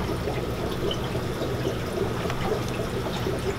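Aquarium water drains out through a half-inch hose during a bucketless water change, making a steady, close rushing trickle that runs continuously without pause or talk.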